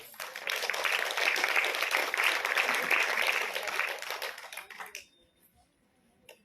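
Applause from an audience at a Bharatanatyam dance recital honouring the dance teachers, steady dense clapping for about five seconds before stopping abruptly, leaving near silence.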